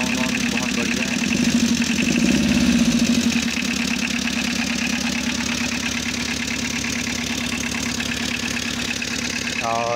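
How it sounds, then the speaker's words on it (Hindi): The overhauled engine of a Tata Ace Magic idles steadily nearby with a rough, even mechanical chatter, swelling slightly early on and holding a constant rumble. "इसका इंजन अभी गवा हो रहा है। साउंड वाउंड बहुत बढ़िया है।"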